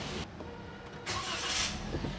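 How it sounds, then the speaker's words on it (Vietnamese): A used car's engine cranks and catches on a dealer's lot, then settles into a smooth, steady idle. The engine is loud and close, and no one speaks. "máy nổ nhảy, êm"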